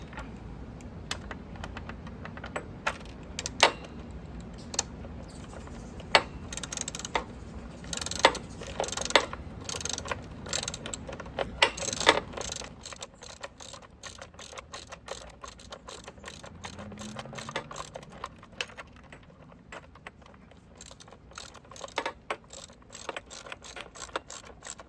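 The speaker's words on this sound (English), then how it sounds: "now we're going to tighten it up using the 10mm wrench and the socket wrench" Ratchet socket wrench and 10mm wrench tightening battery lock bolts on a bike, sharp irregular clicks and ticks over a low background hum that drops away midway, close by with no talk.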